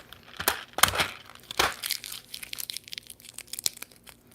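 A plastic package is peeled open by hand, giving a run of close, sharp crinkling and tearing crackles in irregular bursts, with a few louder snaps early on and quieter rustling after.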